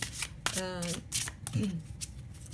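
Oracle cards are shuffled in a quick riffling burst that runs under someone speaking close to the microphone, with a brief flutter partway through.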